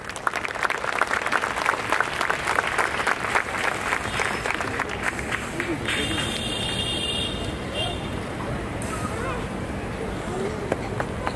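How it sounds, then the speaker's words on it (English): Audience applause at a school annual day event, loud and sustained clapping from a large crowd that continues steadily and eases slightly toward the end, with a high tone briefly sounding partway through. "a huge round of applause for ma'am"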